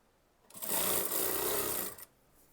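A sewing machine runs a single quick burst of stitching along a folded kurti sleeve, set to a long stitch, lasting about a second and a half, close and fairly loud, alone.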